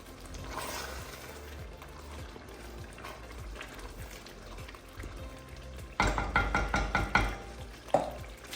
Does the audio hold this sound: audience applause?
no